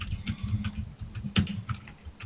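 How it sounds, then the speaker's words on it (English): Computer keyboard typing over voice chat, heard as uneven clusters of dull thunking keystrokes with a few sharper clacks, close and fairly loud, with no talk over them. "if you're going to be typing like that, you're going to need to put push to talk on because all we can hear is thunk, thunk, thunk, thunk, thunk"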